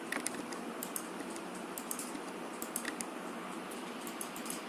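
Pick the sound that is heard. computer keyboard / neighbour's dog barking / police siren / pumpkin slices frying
computer keyboard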